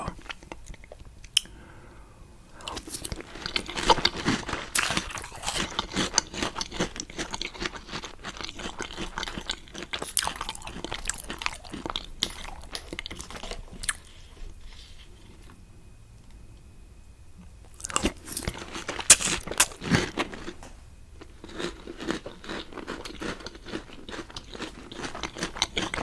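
Close, crisp crunching and chewing of chocolate breakfast cereal, in irregular bursts of munching with brief quieter pauses between mouthfuls.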